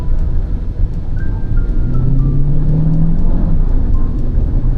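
A Chery Tiggo 7 Pro SUV in sport mode pulls hard at full throttle, its engine note rising steadily under a constant wash of road and wind noise from inside the cabin.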